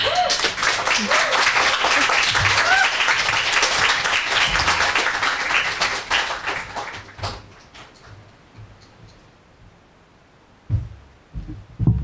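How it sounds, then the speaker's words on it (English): Audience applause after a poetry reading at a decolonial poetics event, loud and sustained with scattered cheers for about seven seconds, then fading to a quiet room with a few knocks and shuffles. "Another round of applause for Xena."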